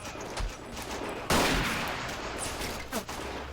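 Artillery piece firing in the World War I game Battle of Empires 1914-1918, a loud sharp blast bursting out in the middle over steady battlefield din, followed by a decaying rumble and a smaller crack near the end.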